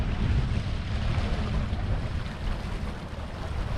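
Waves washing onto a busy beach in Pattaya, a steady low roar of surf mixed with wind rumble, continuous and fairly loud with no voices.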